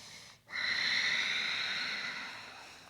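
A deep breath during a dynamic yoga flow, a single long airy exhale that swells after a brief pause and then slowly fades, heard close and alone.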